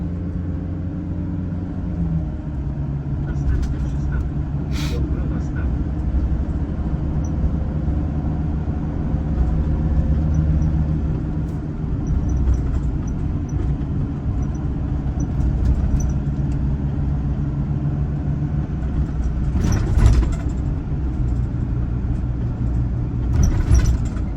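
Low, steady engine rumble and road drone inside a Mercedes bus on a PKS Rzeszów regional route, continuous throughout with occasional faint rattles and clicks, no talking.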